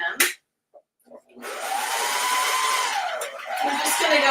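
A serger stitches a rolled hem on a table napkin at moderate speed, a steady close motor whir that starts after a short pause and keeps humming with small shifts in pitch, with brief clicks before it.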